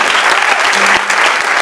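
A theatre audience claps loudly and densely at a live concert at Teatro Sony, a continuous close burst of applause with a faint voice underneath.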